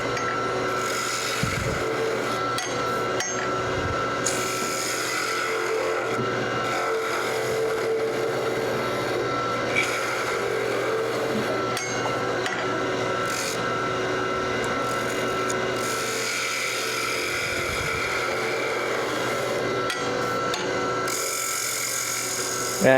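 A scraping tool working a wood piece spinning on a woodturning lathe while a tenon or dovetail is cut, a continuous grinding hum with rasping scrape, close and steady for the whole stretch.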